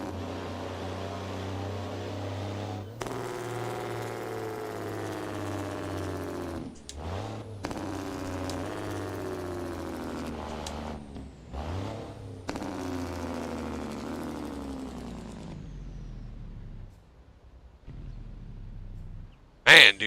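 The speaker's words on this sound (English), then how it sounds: "them Jakes are loud" Peterbilt truck in American Truck Simulator, likely a Jake engine brake: a loud, steady low drone with harmonic bands that fall and rise over several bursts, fading near the end.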